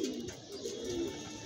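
Caged pigeons coo softly in low, rolling phrases, fairly close but quiet against a faint background hiss, with no talking.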